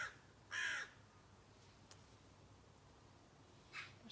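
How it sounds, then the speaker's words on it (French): A crow calls from a tree with two short, rough caws several seconds apart, faint and distant in an otherwise quiet room. "On a un oiseau dans l'arbre."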